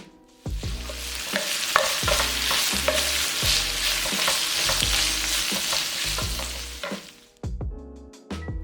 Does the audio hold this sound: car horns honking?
no